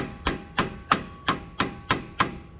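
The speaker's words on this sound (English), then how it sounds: "I'm just going to wrap it lightly with a hammer and see if that does anything" Seven sharp metallic hammer taps strike a car's bad wheel bearing at an even, steady pace, each ringing briefly before the next.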